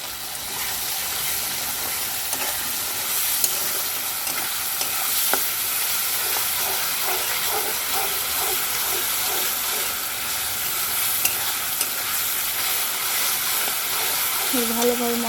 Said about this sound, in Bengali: ভালোভাবে মশলাটা কষিয়ে নেব।